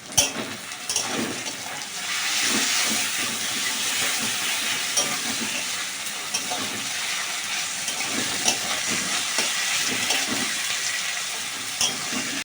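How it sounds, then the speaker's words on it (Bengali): Ginger and garlic frying in a pan for a turkey chicken curry, a steady bright sizzle throughout, broken by repeated stirring scrapes and clinks from a spatula, close by and moderately loud. "আদা রসুনটা দিয়ে ভাজতে থাকবো"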